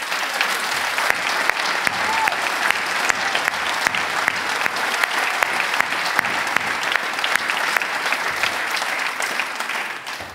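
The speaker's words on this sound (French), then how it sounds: "Je vous demande d'applaudir bien chaleureusement David Clarinval." Warm, sustained applause from a large audience at a political New Year's address in Namur, Belgium, a dense, even wall of clapping with sharp individual claps standing out, continuing steadily throughout.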